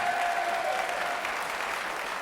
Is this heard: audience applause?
yes